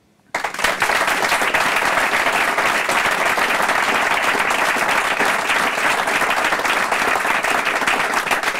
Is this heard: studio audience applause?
yes